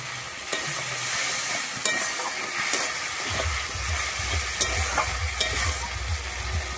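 Water poured into a pan of frying ginger masala, a steady broadband sizzle and hiss that swells into a louder, bubbling boil partway through, with occasional clinks of stirring, close and with no talk.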